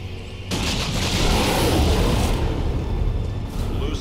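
Grenade blast in the video game Warhammer 40k Dawn of War 2, a sudden loud burst of explosive noise that rumbles on for a few seconds amid battle clatter.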